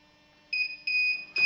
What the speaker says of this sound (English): 4 degrees above the set point, and it alarms